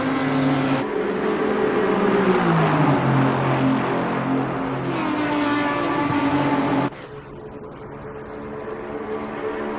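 Race cars in a racing game scream down a straight on a loud, sustained engine howl that climbs and dips in pitch, then changes abruptly to a steadier drone.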